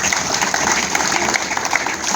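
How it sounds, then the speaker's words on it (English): Dense, steady applause from a church congregation fills the whole stretch, loud and close, with no break. "Clap for Jesus Christ"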